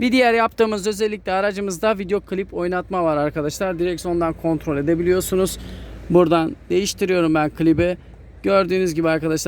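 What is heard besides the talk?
No everyday noises stand out.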